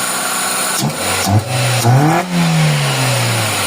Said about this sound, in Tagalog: Titingnan natin kung ganun pa rin yung ginagawa niyang parang nahihirapan yung makina at low power.